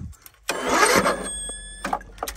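A starter motor cranks once briefly and then stops, a single short mechanical whir followed by faint clicks and quiet.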